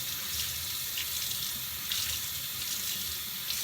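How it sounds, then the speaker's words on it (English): Tap water runs into a sink, rinsing freshly dyed cotton fabric, a steady close hiss and splash with slight surges, no talking. "all you do is rinse out your fabric with, I like to alternate between hot and cold"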